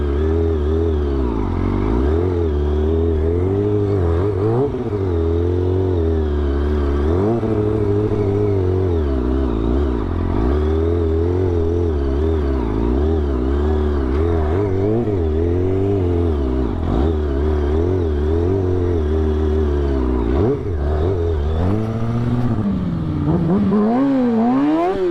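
A truck engine revs loud and close for the whole stretch, pitch rising and falling in repeated throttle swells over a steady rumble, climbing sharply at the end.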